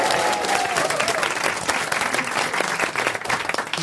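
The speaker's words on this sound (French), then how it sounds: "Sous les acclamations du public." Studio audience on a French radio comedy panel show bursts into loud, sustained applause and cheering, dense clapping filling the whole stretch with a brief whistle-like cheer near the start.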